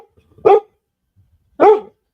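A puppy barks twice outdoors, each bark short and sharp, close and loud, separated by about a second of silence.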